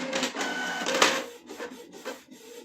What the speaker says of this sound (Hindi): प्रिंट पे मैंने यहाँ क्लिक किया, वैसे ही प्रिंटर चालू हो गया,